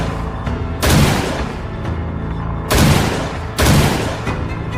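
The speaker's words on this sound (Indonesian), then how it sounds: "Lima tembakan." Gunfire at a shooting contest, three loud, close shots cracking out at irregular intervals over a steady background noise, with no talking.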